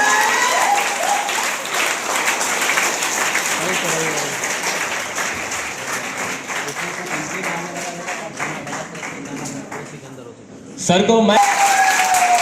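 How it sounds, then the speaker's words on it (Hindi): Loud audience applause welcomes Santosh sir at a health awareness product training event in Darbhanga, a dense sustained clapping with a voice speaking over it, a brief dip, then a renewed burst near the end. "जोरदार तालियों के साथ स्वागत करेंगे मिस्टर संतोष सर के लिए।"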